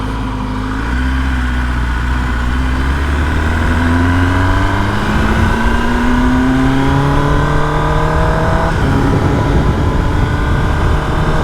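A 2023 ZK-10RR motorcycle is ridden through a neighborhood, its engine loud and close with rising and falling revs as it accelerates through the gears, plus a steady rush of wind, and no voices.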